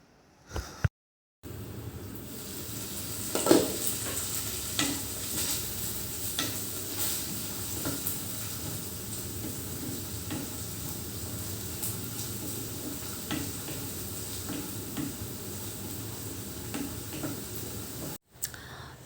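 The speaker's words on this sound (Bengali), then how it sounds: "এখানে ফ্রাইড রাইসের ওই সবজিগুলো ভেজে নিচ্ছিলাম" Vegetables for fried rice sizzle steadily in a pan for a long stretch, with scattered ticks and scrapes from stirring, constant and close, with no voices.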